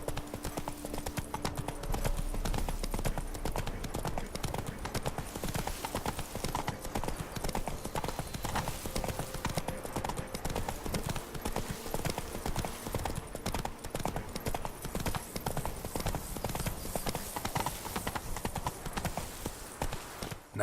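Roach, a horse in The Witcher 3: Wild Hunt, gallops with rapid, even clip-clopping hooves that stay close and loud for the whole stretch, over faint game ambience.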